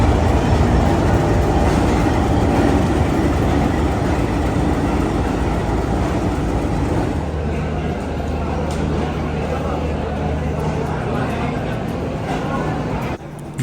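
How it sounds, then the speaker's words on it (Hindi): Passenger train standing at a railway platform in India, a loud steady engine rumble and hum with station bustle around it, under a man's speech. "ये हमारी ट्रेन है जनाब,"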